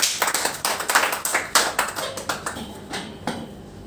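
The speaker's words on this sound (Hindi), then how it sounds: "इसी बात पर तालियां।" Brief clapping from a gathering of people, a fairly small group with distinct, uneven hand claps that fade slightly toward the end.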